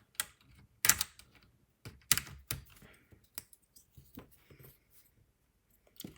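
Keycaps click and snap onto a computer keyboard in sharp, scattered plastic taps and presses, some louder pops among quieter clacks, close up with gaps of silence between them.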